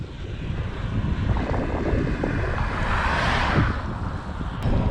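Steady headwind roaring across the microphone while cycling, a constant broadband rush with gusts swelling and easing, no voices.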